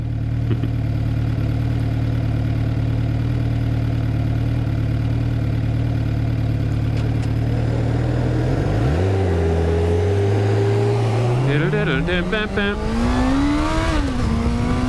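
A vehicle engine idles steadily, then revs hard and climbs toward about 9,000 to 10,000 RPM, pitch rising and wavering through shifts, loud and close with constant wind noise.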